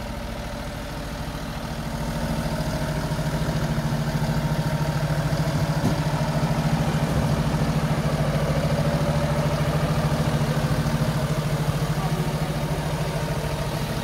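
A Fendt 828 Vario tractor engine, with about 6000 hours of use and EGR disabled, idles steadily nearby, a low, even diesel rumble with slight clatter that holds constant throughout.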